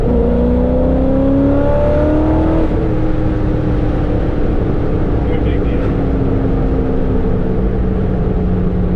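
A Chevrolet Corvette C6 Z06 V8 engine drones steadily at cruising speed in fifth gear, heard from inside the cabin with a low, even rumble and a brief pitch shift early on, while a voice speaks over it.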